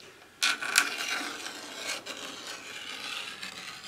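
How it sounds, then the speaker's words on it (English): Carpet knife blade clamped in a vise being drawn along the edge of a vortex shroud for a vertical wind generator, a close dry rasping scrape repeated in a few strokes with short gaps. "take a carpet knife blade, stick it in the vise, and then run the blade down"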